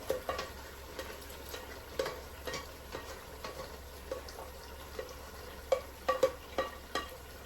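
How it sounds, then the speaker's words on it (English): Quiet kitchen sounds: a low sizzle with scattered clinks and stirring taps, broth splashing into a hot pan of frying goat meat. "I'm adding the broth at once."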